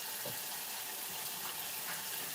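Farmers market produce being rinsed under a running tap, a steady faint hiss of flowing water with light splashes, close and continuous without talking.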